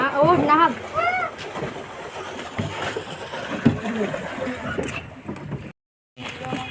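A boat sets off across the water, with nearby splashing and sloshing against the hull. People talk over it, and it cuts to near silence briefly near the end.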